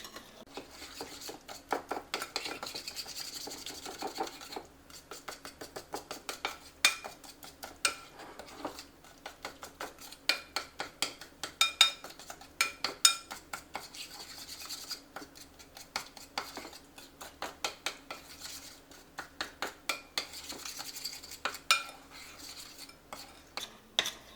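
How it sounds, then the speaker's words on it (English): Thick gluten-free cane syrup cookie dough is stirred by hand in a bowl, giving quiet, irregular scraping and clinking strokes that continue steadily, with no talking. "I'm doing this the old-fashioned way, mixing it by hand instead of mixing it with a mixer"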